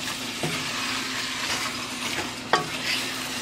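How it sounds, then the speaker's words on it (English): Curry goat sizzles steadily in a hot pot, a close, constant frying hiss with a couple of sharp clinks from stirring, and no talking. "So you hear that sizzle, guys? Always make sure your pot is hot when you're going to do your curry."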